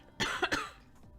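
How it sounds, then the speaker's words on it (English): A person coughs a few times in a quick, close burst of two or three hacking coughs, then falls quiet. "Probably why I'm coughing."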